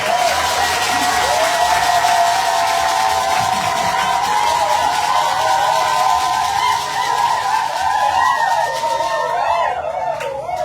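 A church congregation at a Sunday worship service applauds and cheers after a testimony, a steady, loud crowd noise lasting throughout, with voices and sustained tonal calls mixed in.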